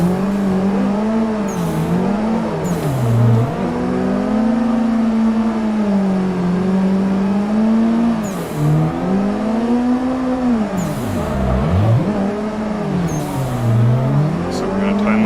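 Engine of a video game drift car in a tandem drift, revving steadily near and loud with wavering pitch and sharp dips as the throttle lifts, plus occasional bursts of tire squeal; someone talks over it at times.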